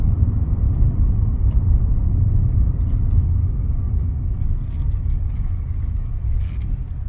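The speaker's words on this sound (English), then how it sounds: "it's just gonna be a very short car ride to get there" A car drives through the French countryside of Normandy, its engine and road rumble a steady, loud low drone heard from inside the car, with no talk.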